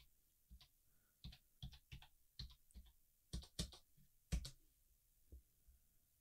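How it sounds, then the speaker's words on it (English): Close, quiet computer keyboard typing of a router IP address, a string of about a dozen separate key clicks in uneven rhythm with no one speaking. "So type that into the address bar at the top."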